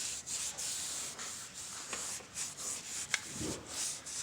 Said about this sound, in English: I sprayed a brake cleaner on my rag, and then we'll just go ahead and wipe all this grease that's on there.